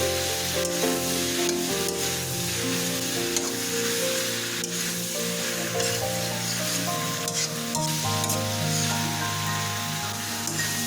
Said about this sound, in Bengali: মিনিট 7 ধরে লো থেকে মিডিয়াম ফ্লেমে কষাতে থাকবো